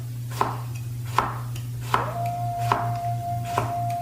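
A knife slices a cucumber thin on a cutting board, giving five evenly spaced crisp chops about a second apart, close and clear over a low steady hum, with no talking.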